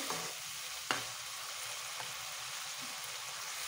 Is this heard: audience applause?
no